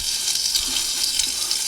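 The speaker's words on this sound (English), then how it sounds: "we're going to just shoot chemical until both are flowing nice" A two-part spray foam gun shoots chemical from both nozzles, giving a steady, loud hissing rush that runs unbroken throughout.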